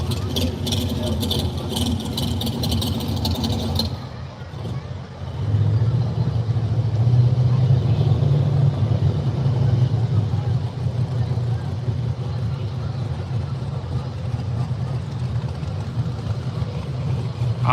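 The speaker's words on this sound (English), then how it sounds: "I promise you cannot miss the sound of that car. It is obnoxious." A loud, obnoxious car engine idles with a deep, steady rumble that grows fuller after a few seconds and carries on for the rest of the clip, with faint talk in the background.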